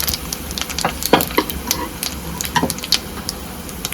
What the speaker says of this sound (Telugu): ఇప్పుడు తాలింపు దినుసులు వేసేసుకుందాం.